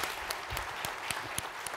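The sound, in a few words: audience applause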